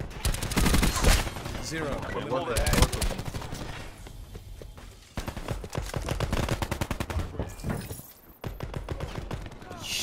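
Rapid gunfire from a newly unlocked Dark Matter weapon in a shooter game, firing in dense automatic bursts across most of the stretch with brief pauses, loud and close, while players talk excitedly over it.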